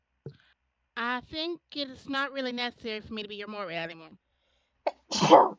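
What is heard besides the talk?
sneeze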